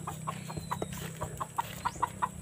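Chickens cluck softly in a rural yard, a series of short regular clucks repeating every fraction of a second at a modest distance, fairly quiet against a faint background hiss.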